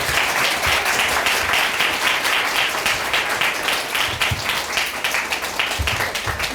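Audience applause welcoming a lecturer to a special data science graduate school lecture at Kyungpook National University, a lively, close round of many clapping hands with slight surges, sustained throughout.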